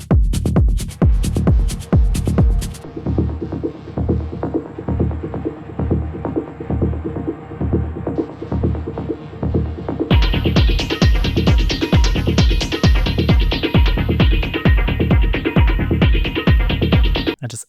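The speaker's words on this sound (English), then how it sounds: "Absolutely love that metallic sounding lead sound." Metallic synth lead riding a busy, groovy electronic arrangement, with steady punchy beats throughout and a brighter, fuller section joining partway through; loud, with no talking.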